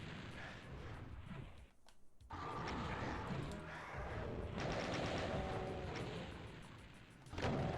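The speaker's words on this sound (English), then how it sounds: "We're going to deploy our rockets" Rockets and gunfire against chaingunners on a platform in Doom II, a dense run of loud blasts and rattling fire broken by a short lull, then more explosions to the end.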